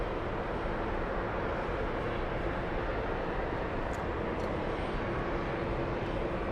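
A Norse Atlantic airliner departing JFK for London Gatwick gives a steady, dense jet-engine roar at a distance, constant throughout with no talk.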